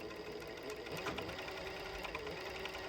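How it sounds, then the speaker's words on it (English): An overlock sewing machine stitches steadily in a continuous, fairly quiet mechanical whir with no pauses, running straight seams. "No, the overlock is actually just stitching straight."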